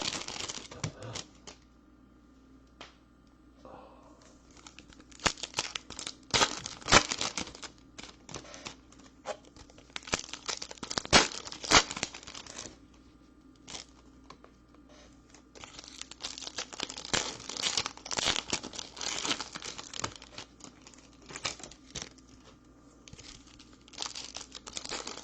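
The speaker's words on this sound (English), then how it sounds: "I've been sitting here for 5 hours opening cards." Trading card packs, 2019 Bowman baseball, being torn open and handled, with dense bursts of crinkling foil wrappers and rustling cards coming close and fairly loud, broken by short quiet gaps.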